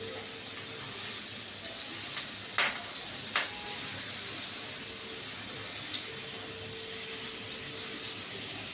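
Butter melting into hot oil in a pan for tandoori chicken, a steady loud sizzle with a couple of brief clinks and no voice.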